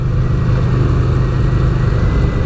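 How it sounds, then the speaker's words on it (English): A 2018 Yamaha SCR950 motorcycle engine gives a steady, deep thrum while riding. It is close and continuous, with no voices. "It's got that lovely thrum to the engine"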